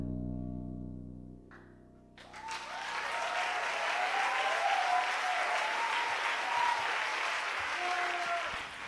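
Steady audience applause at a radio interview broadcast, rising after a brief lull and holding dense and even, with a faint tonal hum running underneath.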